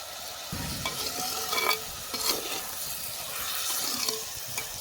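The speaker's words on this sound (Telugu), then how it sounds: "బాగా ఉడికించినామంటే బాగా మరుగుతుంది తక్కాలి." Gentle sizzling and bubbling of salted tomatoes cooking in a pan on the stove, with a few scrapes of a spoon stirring, steady and close.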